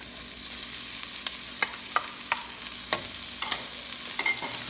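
Onions and garlic sautéing in a pan for chicken tamarind soup, a steady soft sizzle with several sharp scraping clicks of a spoon stirring, close and moderately quiet, with no talking.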